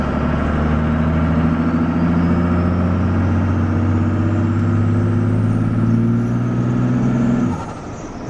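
A diesel truck with a hoodstack exhaust pulls hard at partial throttle, a loud, steady engine drone with a rising whine, then the power drops off abruptly near the end and it settles to a lower rumble.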